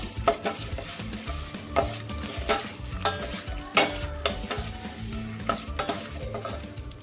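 Dried red chilies, garlic and cumin fry in a pan, giving a steady crackling sizzle broken by frequent stirring clinks and scrapes that continue throughout.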